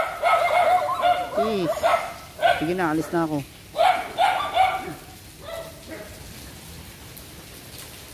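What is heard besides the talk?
dog barking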